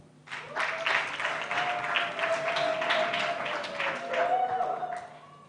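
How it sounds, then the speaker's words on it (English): An expo grand finale audience applauds Team 1, sustained crowd clapping for several seconds with a voice speaking over it. "let's clap for Team 1"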